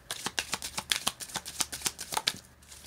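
A Sun and Moon Tarot card deck is shuffled up close, producing a quick, steady run of crisp papery riffles and flicks with no voices.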